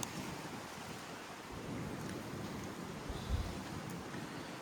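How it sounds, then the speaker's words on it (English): Wind gusts steadily across a microphone outdoors during a Honda XR150L front brake fluid change, making a continuous low rumble and hiss with a brief thump near the end. No one speaks. "Sorry about the wind today."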